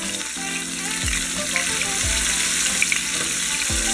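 Fish sears in hot olive oil for a coconut curry stew, a steady crackling sizzle filling the whole stretch, with a few soft low thuds as pieces shift in the pan.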